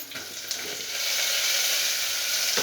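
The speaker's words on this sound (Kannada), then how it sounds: "ಈರುಳ್ಳಿ ಈಗ ಫ್ರೈ ಆಗಿದೆ" Onions fry in a pan with a loud, steady sizzling hiss that swells after the first second and carries on unbroken, close and alone.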